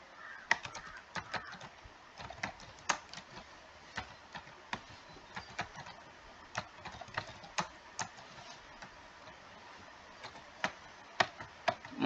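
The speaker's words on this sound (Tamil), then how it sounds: "கம்பெனி நேம் டைப் பண்ணுங்க." Company details are typed into billing software on a computer keyboard: crisp, irregular keystrokes tapping steadily at moderate volume, with no talking over them.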